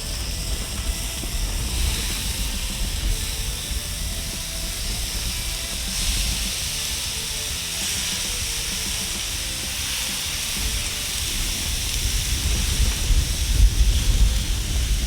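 Beef meatballs sizzle on a griddle coated lightly in beef tallow, a steady close hiss and crackle that holds throughout and swells slightly toward the end.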